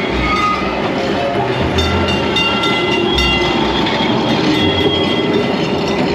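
A Kolkata tram running on its rails, a loud continuous rumble with rhythmic wheel clacks and low thumps over the joints, close by and with no voices.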